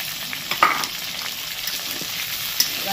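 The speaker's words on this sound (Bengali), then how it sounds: "হালকা করে এটা ভেজে নেব।" Capsicum and onion frying in oil for crispy fried chicken, a steady soft sizzle with a few light scrapes and clicks of stirring, close and without talk.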